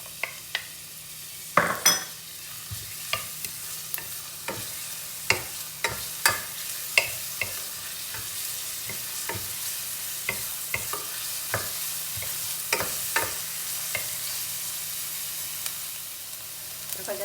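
Garlic and onion sautéing in a pan for a creamy mushroom sauce, a low sizzle punctuated by regular sharp spatula taps and scrapes against the pan.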